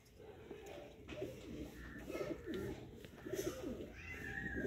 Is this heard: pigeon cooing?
yes